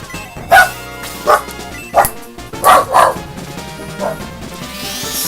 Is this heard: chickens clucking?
no